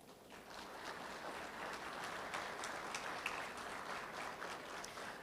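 An audience applauds guests at a conference panel on productivity technologies, a dense and steady wash of clapping that holds for several seconds at a moderate distance, with no voices over it.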